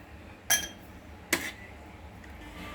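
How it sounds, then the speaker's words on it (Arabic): Two bright, separate clinks as ice cubes drop into drinking glasses, about a second apart, close and crisp over a quiet room. "حطينا كمية التلج اهو في ال3 كوبايات"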